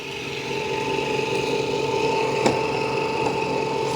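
ECOVACS DEEBOT N20 Plus robot vacuum mopping a floor while vacuuming, a steady close mechanical whir with a sustained tonal hum and faint rattling, one brief clack midway, no voices.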